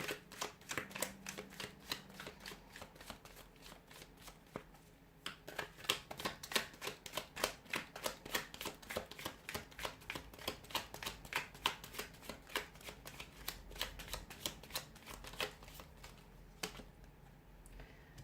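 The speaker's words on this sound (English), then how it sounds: "give the cards a shuffle here" Rapid riffling and flicking of tarot cards being shuffled, a dense run of crisp clicks repeated in bursts over a quiet background.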